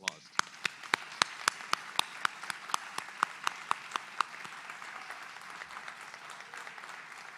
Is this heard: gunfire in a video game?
no